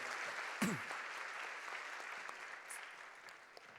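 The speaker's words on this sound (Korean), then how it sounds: "박수 한번 주시죠 여러분." Young adult congregation applauding at a church New Year service, a faint, distant even patter of clapping with a brief voice near the start.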